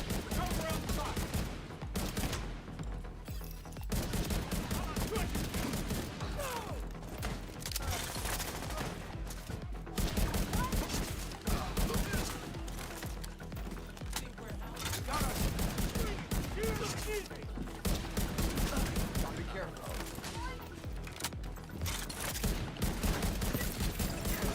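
Turret gunfire in the video game The Division 2 rattles through a fence in dense, sustained bursts of rapid shots with brief lulls, loud and continuous in the game mix.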